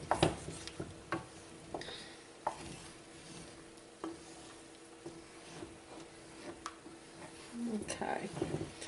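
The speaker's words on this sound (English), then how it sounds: "I'm going to give it 1 stir" A spoon scrapes and stirs through a pot of hot dog, tomato and macaroni, with intermittent clinks and soft scraping against the bottom while a voice talks.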